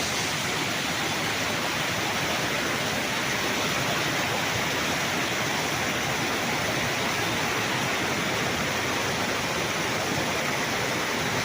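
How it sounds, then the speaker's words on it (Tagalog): A steady, loud rush of falling water from a man-made waterfall on a river irrigation channel in Majayjay, Laguna, dense and constant with no pauses, like a broad cascade heard up close. "So mayroon nga parang man-made falls dito"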